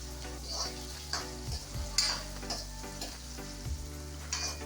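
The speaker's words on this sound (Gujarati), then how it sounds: "ડુંગળી અને મરચાં છે કાપેલા, તેને મિક્સ કરી દઈશું અને શેકવા દઈશું થોડીક વાર સુધી" Chopped onion and chilli sauté with cumin in a hot pan, sizzling and crackling continuously, punctuated by several soft stirring scrapes and clinks of a utensil.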